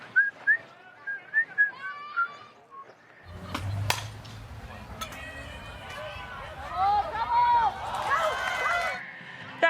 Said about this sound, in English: She whistling at the plate right there?